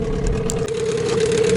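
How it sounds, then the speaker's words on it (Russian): A new Mikatsu 9.8 outboard motor idles through its break-in with a steady, close, rattling hum and a constant tonal whine, running without pause and with no talking. "Уже 22 минуты тарахтит,"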